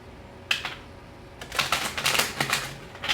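Crisp riffling bursts of cards being shuffled, one short burst then a longer flurry of rapid clicks, close up.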